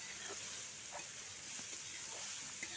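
Grated carrot fries in oil in a pan, giving a steady, soft sizzling hiss with faint occasional crackles and stirring scrapes, quiet and without voices.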